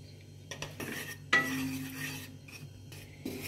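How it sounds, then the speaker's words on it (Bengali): Gram flour dry-roasting in a dry wok, with a spatula scraping and stirring in short bursts and small metallic clinks between strokes, close and clear against a quiet background. "এইভাবে শুকনো কড়াতে বেসনটা আগে একটু ভেজে নিতে হবে।"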